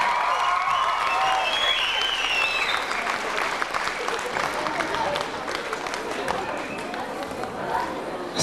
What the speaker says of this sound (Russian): Ваши бурные аплодисменты не просто аплодисменты, а бурные аплодисменты.